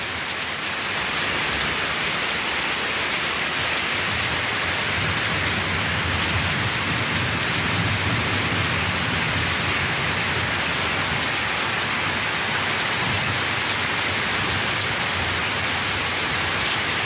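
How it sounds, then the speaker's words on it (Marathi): Heavy rain pours down steadily for the whole stretch, a dense, loud hiss of drops on surfaces with no pauses and no talking. "भरपूर पाऊस आणि चालू आहे अजून सुद्धा."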